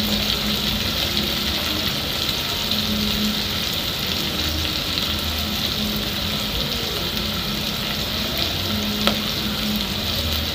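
Fish and simple ingredients cooking in a pan, a loud, continuous close sizzle and hiss that stays steady the whole time, with no talking.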